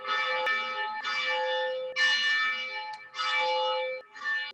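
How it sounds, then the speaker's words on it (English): Church bells ring out in a slow, steady series of five loud, resonant strikes, each tone lingering before the next. "I am going to go ahead and spotlight our ringing of the bells."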